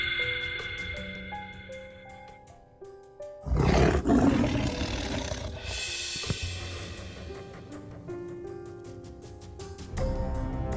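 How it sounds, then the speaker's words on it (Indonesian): A tiger roar bursts in loudly over a music score, a deep rumbling growl that swells and lingers for several seconds before fading back under the music. "itu ada suara harimau"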